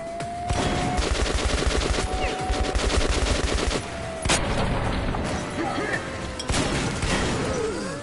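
Sustained automatic gunfire in Metro Last Light Redux, dense rapid bursts rattling almost nonstop with a few heavier impacts, loud and close, with no talking.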